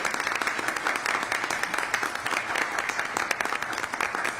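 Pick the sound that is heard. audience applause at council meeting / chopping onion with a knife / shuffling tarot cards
audience applause at council meeting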